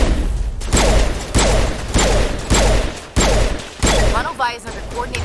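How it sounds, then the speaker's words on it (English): Heavy crossfire gunfire in the Mass Effect Legendary Edition video game, loud bursts about every half second in a steady rhythm, with a voice briefly speaking near the end. "Manovai is under coordinated crossfire."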